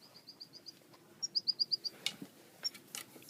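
A small bird chirps in short, quick runs of high tweets, a faint series followed by a louder, closer burst, with a few scattered soft noises after.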